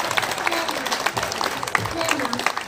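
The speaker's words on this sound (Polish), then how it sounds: "Brawa na niej!" Scattered applause from a small group at a casual gathering, uneven claps at a modest level with some brief voice sounds mixed in.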